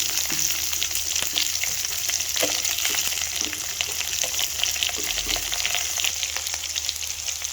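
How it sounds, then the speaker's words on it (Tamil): Dried red chillies, curry leaves and onion fry in hot oil for a peanut chutney, crackling and hissing steadily up close, with scattered sharp pops and occasional stirring clicks throughout. "இப்போ இதில் வந்து காஞ்ச மிளகாயும் கருவேப்பிலை இன்னும் இதில் வெங்காயம்"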